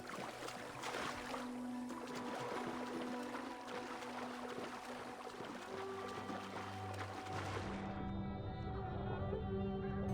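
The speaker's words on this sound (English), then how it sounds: "It's interesting how water reacts in the game." Water in a video game sloshes and splashes in a continuous rushing wash, moderately loud and steady throughout, with tonal game sounds layered underneath and the splashing noise cutting off near the end.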